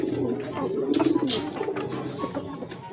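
Racing pigeons at a club training release coo softly nearby in low, throaty, repeated bursts, joined by a few brief rustles and light clicks.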